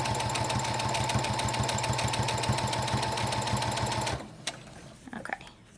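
A sewing machine stitches through fabric for a fitted N95-shaped surgical mask, backstitching to lock the thread: a steady, loud rapid mechanical chatter for about four seconds, then it stops, leaving a few faint clicks and handling sounds.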